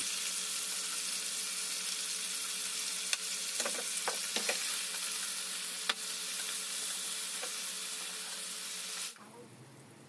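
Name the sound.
chicken pieces frying for butter chicken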